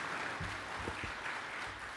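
A church congregation claps after a sermon at an installation service, a brief spread of soft, somewhat distant applause that stays fairly low throughout.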